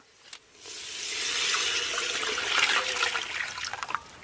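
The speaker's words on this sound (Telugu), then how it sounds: "ఆ స్టీమ్లో ఉడికిన వాటర్ ఉన్నాయి కదా, ఆ వాటర్ పోసుకోవాలి." Saffron water pours in a steady splashing stream into a cooking pot, starting after a brief knock and trailing off into dribbles.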